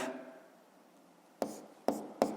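Pen or pencil on paper, worked through a seventh-grade physics exercise: a faint soft scratch, then three sharp close taps or strokes spaced about half a second apart, alone.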